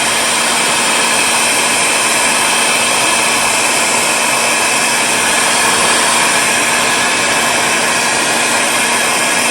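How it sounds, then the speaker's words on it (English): Heat gun blowing hot air to melt wax off the chassis of a 1939 Zenith 5-S-320 antique radio, a loud, steady roaring hiss running unbroken throughout with no talk. "I can heat it with a heat gun"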